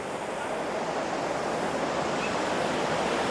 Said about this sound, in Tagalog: Ang ganda ng falls nila dito.